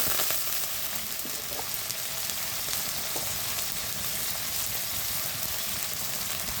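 Onion and garlic paste sizzling steadily in a pan with a little water, a dense, even crackling hiss close by, with a few faint clinks and no talking.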